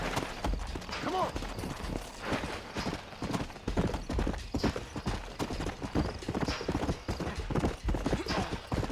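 Horse hooves clip-clop steadily in the Red Dead Redemption video game, a continuous rhythmic trot with game characters talking over it.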